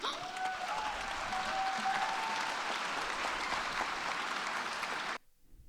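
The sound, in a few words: applause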